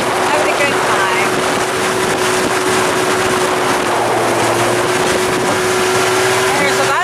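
A new motorboat cruises on open water, a constant loud engine drone mixed with rushing wind and water, with a voice talking over it.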